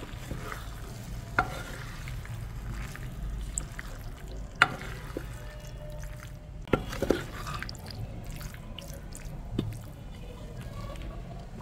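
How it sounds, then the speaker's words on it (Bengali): Boiled pasta with tomatoes is stirred in a pan, giving soft squishing and occasional spoon knocks over a faint, quiet sizzle. "সবগুলো উপকরণ একসঙ্গে নেড়ে চেড়ে মিশিয়ে নেব।"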